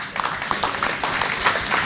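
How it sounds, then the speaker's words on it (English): An audience applauds at a live studio show: dense, steady clapping that stays loud and even throughout. "Big round of applause."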